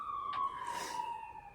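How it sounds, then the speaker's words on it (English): An ambulance siren passes in the distance on a summer walk, its steady wailing tone faint and sustained for the whole moment, with no speech. "Ambulance."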